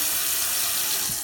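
Tap water streams with strong pressure into a stainless steel sink bowl, a steady, loud, close hiss without talk.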